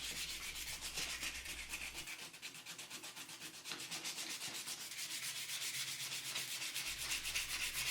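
Continuous rapid scratchy rubbing of sandpaper removing clear coat from the aluminum forks of a 1975 Honda MR50 Elsinore, close and steady, with fast back-and-forth strokes and no talking.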